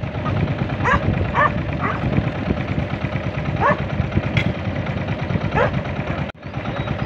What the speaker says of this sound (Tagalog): aso, si Samji.